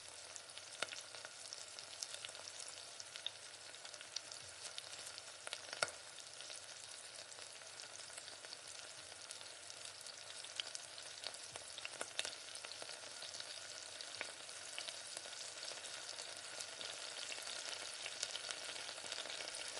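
Fish fries in oil over a low flame, a quiet steady sizzle with scattered small pops and crackles throughout, no one speaking.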